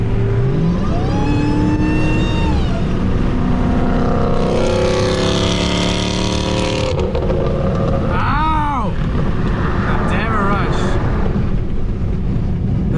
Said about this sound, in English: Guy's exhaust is just too fucking loud